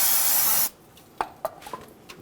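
Brake cleaner sprayed around the bleeder area of a 2011-2014 Hyundai Sonata during a brake bleed, a loud steady hiss lasting about half a second, followed by a few soft clicks and taps nearby.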